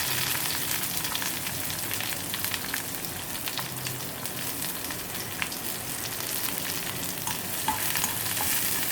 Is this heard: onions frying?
yes